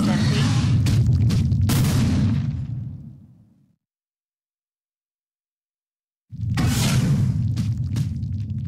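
Stampede attack from a World of Warcraft pet battle, a rumbling burst of booming impacts and whooshes that fades out into silence, then returns just as loud after a pause.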